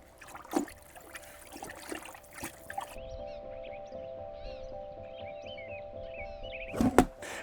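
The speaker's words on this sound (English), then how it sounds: "I'm going to give it a good stir just to get more air in there" Fermenting fish scrap fertilizer gets stirred in a bucket: a few wet knocks and sloshes, including a louder thump near the end, over a steady low hum and faint chirping in the background.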